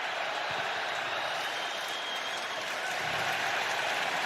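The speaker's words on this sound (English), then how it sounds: "This crowd is making it difficult on this young man." Loud, steady roar of a packed ballpark crowd during a Tigers at Astros 2024 wild card playoff game, a dense continuous wash of cheering and noise with no clear pauses.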